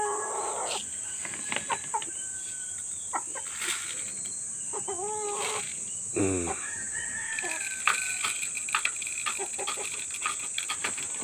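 Chickens cluck and a rooster crows amid a steady high insect hum, with occasional clucks near and others farther off.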